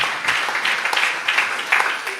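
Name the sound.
audience applause for panelists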